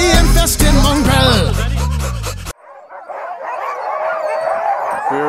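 Sled dogs at a dog-sledding camp in Spitsbergen bark and yip loudly in a noisy, overlapping chorus, with background commotion and voices, then the clip drops to a quieter, distant murmur of activity.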